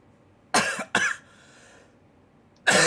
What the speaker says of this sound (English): I apparently in the last 3 minutes have developed a cough